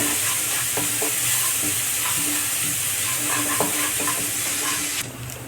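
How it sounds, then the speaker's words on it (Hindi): Steady sizzling of garlic ginger paste frying in hot oil over a high gas flame, with soft scraping and stirring strokes from a spoon in the pan throughout. "पेस्ट को हल्का फ्राई कर लेंगे, बराबर चला के फ्राई करेंगे।"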